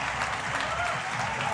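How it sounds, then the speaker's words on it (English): An audience at a bouldering championship semi-final in Munich claps steadily throughout, a dense, even wash of applause. "The crowd are psyched"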